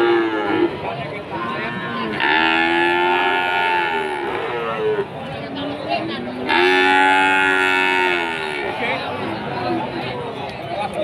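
Simmental and Limousin cattle moo loudly several times, long drawn-out calls over a busy background of chatter and crowd noise, at Pasar Pon livestock market in Jaken.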